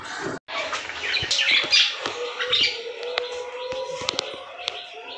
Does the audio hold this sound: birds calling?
yes